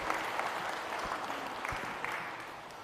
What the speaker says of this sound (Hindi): उन लोगों के लिए दोनों तालियां जोर से तालियां दे दीजिए